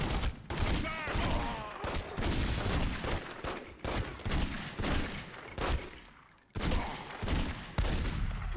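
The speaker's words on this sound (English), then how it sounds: "Please stop shooting me even though I killed your boss." Heavy gunfire in The Godfather video game, loud dense volleys of shots and impacts almost continuously across the stretch, with game voices mixed underneath.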